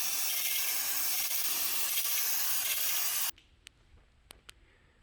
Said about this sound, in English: Let's go ahead and spray them down.